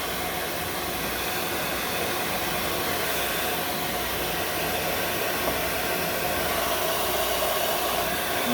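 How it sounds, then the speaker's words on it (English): A hair dryer on a warm, in-between setting blows steadily while drying a cat, giving a constant, close, even whooshing roar with no pauses or speech. "My dryer isn't on like super hot, it's on like a warm setting"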